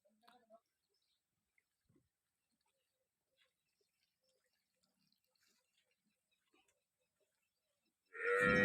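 Cows on a farm in Tharad, Banaskantha, give a single loud, close moo at the very end after a long, near-silent stretch broken only by faint small clicks and knocks.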